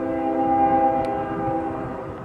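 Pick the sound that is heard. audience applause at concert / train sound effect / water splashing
train sound effect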